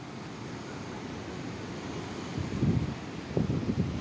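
Wind and surf roar steadily at Ngobaran beach in Gunung Kidul, Indonesia, a dense wash of noise with a couple of louder wave surges near the end and no voices.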